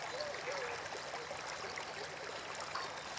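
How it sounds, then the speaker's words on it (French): A river flows slowly with a gentle, continuous trickling and babbling murmur, soft and close, with a few faint bird chirps above it. "Vous entendez l'eau de la rivière qui s'écoule lentement mais sûrement."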